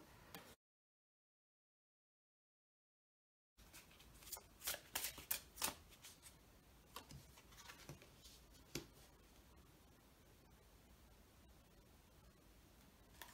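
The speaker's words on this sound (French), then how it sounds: "je vais commencer par tirer toutes les cartes" Tarot cards shuffled and drawn by hand, a soft rapid riffling and sliding patter with a few sharper flicks, close and quiet, starting after a brief silence and continuing steadily without talk.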